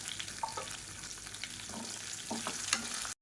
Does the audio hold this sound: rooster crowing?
no